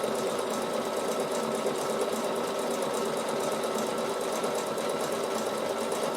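A Bernina sewing machine stitches steadily in a fast, even mechanical hum with a rapid repeating needle rhythm, continuous and fairly faint, with no talk over it.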